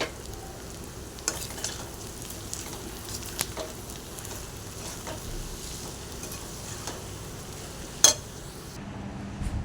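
Chicken liver fries quietly in a pan, a soft continuous sizzle with occasional light clinks and scrapes of a utensil stirring, fairly faint and without voices.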